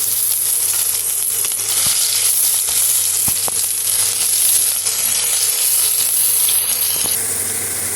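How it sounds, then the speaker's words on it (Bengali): Onions fry in hot oil in a pan, giving a steady close sizzle and hiss throughout, with a few sharp clicks from stirring and no voices. "এর মধ্যে অ্যাড করে দেওয়া হলো পেঁয়াজটা এবার ভালো করে ভেজে নিতে হবে"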